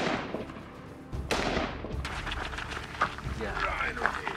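Gunshots strike a Gladiator Solutions ballistic armor plate during an outdoor test: a sharp report near the start and another loud crack around a second and a half, echoing, with people talking in between.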